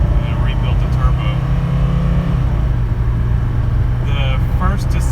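A 1985 Mercedes 300D with a rebuilt turbo diesel accelerates hard from a standstill toward 60, its engine droning loud and steady inside the cabin as someone talks over it and the drone shifts once mid-pull.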